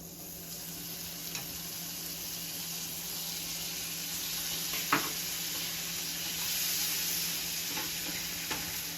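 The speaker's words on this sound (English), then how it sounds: "I'm going to add the rest of the butter into the pan with the pecans and let it melt" Butter melting in a pan with toasted pecans sizzles in a steady, close hiss, with a few brief clicks and taps over it and no talking.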